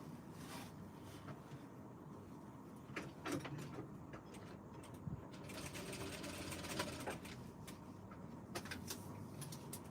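A sewing machine stitches a party dress in steady, fairly loud bursts that are broken by short pauses, against a busy room background.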